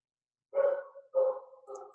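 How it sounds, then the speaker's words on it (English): A dog barks nearby in a room, giving three short, loud barks in quick succession with no voices over them. "Sorry about the dog."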